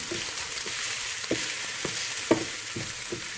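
Small onions fry steadily in a pan with a constant hiss and crackle, broken by several soft stirring scrapes and clicks at irregular intervals; no one speaks.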